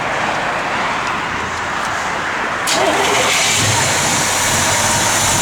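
The engine of a 1967 Chevrolet Chevelle SS with a standard rebuild on pump gas fires up midway, shifting from quiet background into a steady, loud running rumble, with a hint of voices nearby.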